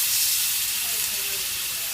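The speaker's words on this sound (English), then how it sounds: "you can hear it sizzle" A rib eye steak sizzles in a hot oiled pan, a loud, steady hiss of frying close up with no pauses.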